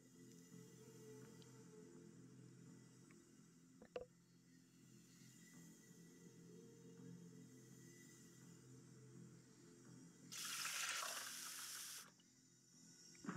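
Water pours into a container in a custom Tomb Raider level set at an airport terminal. A single rushing splash lasts about two seconds over a steady low ambient drone, with a faint knock before it.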